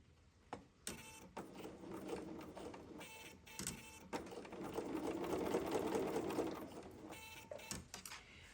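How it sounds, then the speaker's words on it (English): Sewing machine stitching with an invisible zipper foot, a close, quiet mechanical whir running in short bursts with stops and starts, then a longer steady run of needle strokes. "I'm going to just start stitching"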